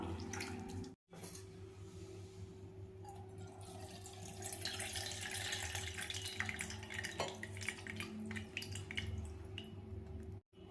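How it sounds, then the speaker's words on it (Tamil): Soaked tamarind is squeezed and dissolved by hand in water for a raw rasam, giving soft continuous wet sloshing and dripping that stays faint and close. "இப்போ நம்ம ஊற வச்ச புளியை நல்லா கரைச்சிக்கலாம்"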